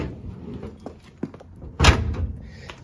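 The rear deck lid hatch of a 1954 VW Barndoor Bus is pushed up and in to close, with soft handling noises and then one solid metallic thunk near the end.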